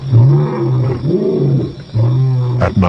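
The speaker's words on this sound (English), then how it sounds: "The most chilling sound in all Africa, a lion's roar." A wild African lion roars at dawn, a deep, loud series of repeated rumbling bellows with brief pauses between them, heard close and clear with no voices.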